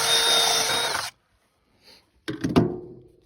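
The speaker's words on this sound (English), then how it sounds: "First thing I'm going to do is drill a hole in this side" A power drill whirs loudly for about a second while drilling a hole in a goat feeder, stops, then after a brief pause bites in again with a rougher grinding burst before winding down.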